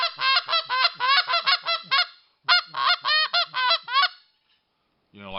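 A RedBone Snowbuzzerd goose call imitating a small Canada goose: quick, clipped, high honks in two dense runs, loud and close, followed by a short pause and a brief voice at the end.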